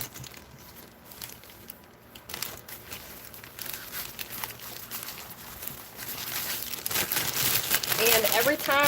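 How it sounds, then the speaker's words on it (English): Plastic bag used for mixing custom acrylic nail powder crinkles and rustles close up, the crackling growing denser and louder toward the end. "every time I use a plastic bag like this"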